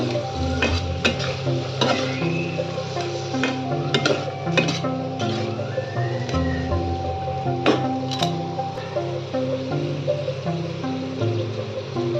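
Boiled potatoes fry in a pan, steady sizzling throughout with frequent scraping and stirring clatter of a utensil against the pan, close and fairly loud, no talking.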